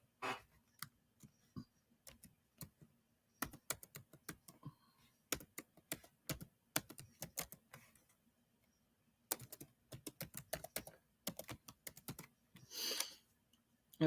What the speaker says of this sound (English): There go my fingers again, sliding around the keyboard